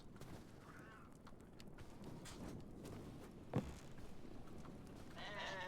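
Sheep bleating in the video game Hytale, heard faintly amid quiet ambient game sounds with scattered footsteps and soft clicks; a brief bleat or two rather than a sustained call.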